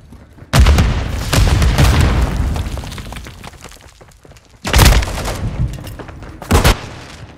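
Grenade explosions in Call of Duty: Modern Warfare II: a heavy close blast with a long rumbling decay, then a second big boom and a sharper crack, with no speech.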